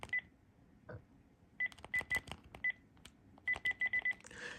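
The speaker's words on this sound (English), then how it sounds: "it'll actually beep when it registers the command" Short electronic beeps from a Panasonic KX-TG9344 cordless phone handset, several single tones then a quick run of five, with faint button clicks between.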